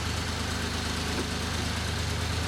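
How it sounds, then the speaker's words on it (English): A 1973 Triumph TR6 engine idles with a steady, loud, low rumble that holds evenly throughout, with no voices. "So I started the engine"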